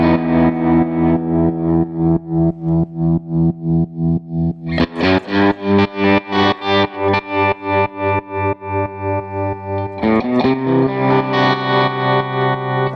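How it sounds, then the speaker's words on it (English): Electric guitar through a Line 6 Pod Express with a tap-tempo tremolo effect, the chords pulsing in a steady rhythmic chop, loud and close with no talking, the pulses quickening partway through. "How about if we go over to a tremolo? Tap tempo to set the tremolo."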